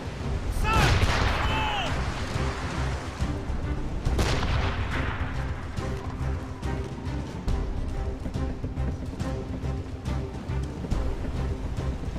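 Ship cannons fire in Assassin's Creed Rogue: a loud close broadside boom opens, a second heavy blast follows about three seconds later, and rumbling battle noise runs throughout, with faint crew voices mixed in.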